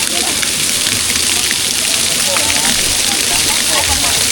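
Water flows and splashes steadily at a waterfall area at a viewpoint in Khammouane, Laos, with a loud, continuous broadband rush close by.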